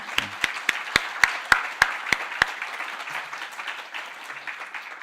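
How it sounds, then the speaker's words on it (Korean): A church congregation at a family worship service claps together in a slow, even rhythm, about nine sharp unified beats with a soft bed of scattered clapping, then settling into lighter, looser applause. "우리 함께 박수하면서 우리 마음 전하도록 하겠습니다"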